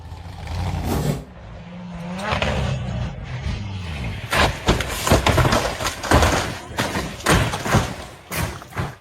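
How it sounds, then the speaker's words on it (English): An off-road 4x4 vehicle climbs a narrow, rocky forest trail, its engine revving and rising in pitch, then giving way to a series of loud thumps and jolts as the tires hit rocks, with brief bursts of voices mixed in. "The off-road vehicle accelerated powerfully as it climbed the narrow, rocky trail winding through the forest"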